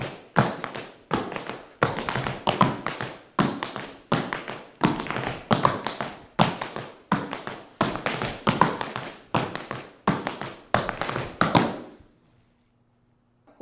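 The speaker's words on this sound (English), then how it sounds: "you're in a deep plie to ensure nice crisp sounds in your double pullback" Crisp, rhythmic tap dance combination with double pullbacks at an up-tempo pace, struck from a deep plié, a steady run of sharp taps and thuds that carries on alone for about twelve seconds, then stops.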